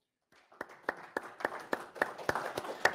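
A group claps in applause for a quiz game winner, the sharp claps building into a steady, fairly even rhythm of a dozen or so hits after a brief quiet start, close and moderately loud with no talk.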